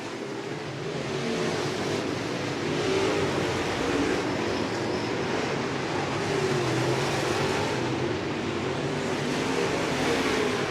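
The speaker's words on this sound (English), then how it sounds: "Jacob Poole in number 82 is going to work his way down the front straightaway" Modified race cars roaring around a dirt oval during the final lap of a feature race, a dense, continuous engine drone from several cars at mid distance with no gaps, no talking.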